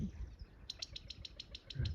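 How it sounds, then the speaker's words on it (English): A Gambel's quail calling on the Pacific Crest Trail in the desert, a rapid series of about nine short, bright chip notes in an even rhythm, fairly near, over low rumbling background noise. "It's a Gamble's quail."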